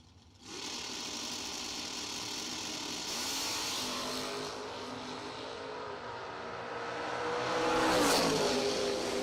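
Drag racing cars, including a 1995 Oldsmobile with a 406-inch Chevy motor, blast down the track with a sustained loud roar that swells again near the end as they pass close by.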